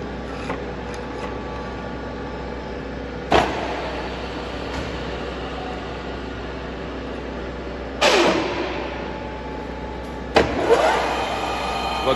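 A Soviet Stanko 6A82III vertical and horizontal milling machine runs its spindle at 2000 RPM, a steady mechanical whine with a low hum, broken by three loud clunking shifts or cuts spaced across the stretch, and no talk.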